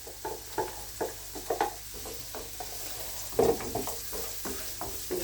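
Onion frying in a pan for a home-cooked Indian chicken dish, a steady sizzle broken by about a dozen close, scraping stirs at an uneven rhythm, with no talking.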